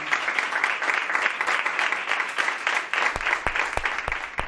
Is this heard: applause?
yes